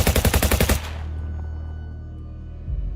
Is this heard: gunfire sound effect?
yes